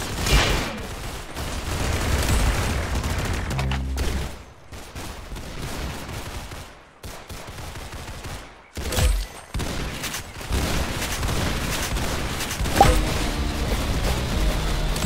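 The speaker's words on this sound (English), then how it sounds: "What an amazing shot!" Rapid gunfire in the Roblox game Arsenal, dense bursts of loud shots and crackling fusillades with short silent gaps between volleys, close and harsh throughout.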